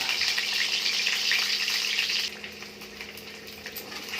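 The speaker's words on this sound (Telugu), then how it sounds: "ఫస్ట్ ఎగ్స్ను ఫ్రై చేసుకుందాం ఆయిల్లో" Eggs frying in oil, a loud steady close sizzle that drops somewhat in intensity halfway through and continues more quietly.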